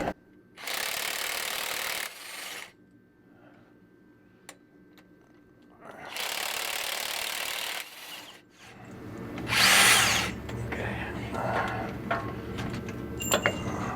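Power tool working on the damper bolts of an 83 Kenworth cabover truck runs in several loud bursts separated by quiet pauses, with a harsher, brighter whine in the final stretch.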